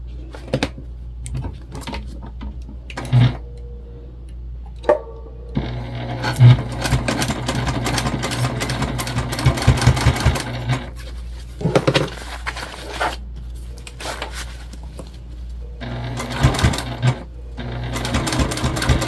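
A sewing machine bastes fabric pieces for a travel sling bag, running in bursts of rapid stitching separated by pauses and faint handling clicks, close and clear with no talk.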